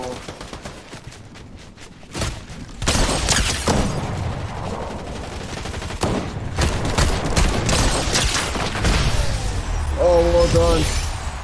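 Rapid bursts of gunfire crackle and boom through a Fortnite match, loud and near, running almost continuously for several seconds while players talk over the fighting.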